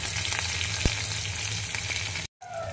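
Green chillies frying in hot oil with cumin and asafoetida, giving a dense, close sizzle that runs steadily before a brief dropout near the end.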